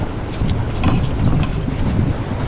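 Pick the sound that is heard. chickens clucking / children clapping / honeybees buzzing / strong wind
strong wind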